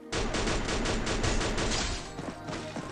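Dense, continuous rapid gunfire from a shooting video game, loud and sustained with bursts of shots running together, thinning slightly toward the end.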